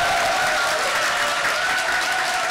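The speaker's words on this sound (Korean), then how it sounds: "가장 뜨거운 마음으로 큰 박수로 다시 한번 환영해 주시면 좋겠습니다" A large audience at an Amway leadership event applauds steadily, a dense, loud, even wash of clapping lasting throughout with no voices above it.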